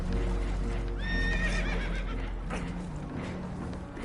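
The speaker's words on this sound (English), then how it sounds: "Horses are spooked" Spooked horses in the Red Dead Redemption 2 video game let out a couple of loud, shrill whinnies over a constant low rumble, with hooves clopping beneath.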